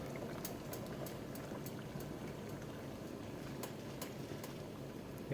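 Water boils in a pot used to cook eggs in silicone egg cookers, a steady, fairly quiet bubbling hiss with scattered pops and ticks, and no voices.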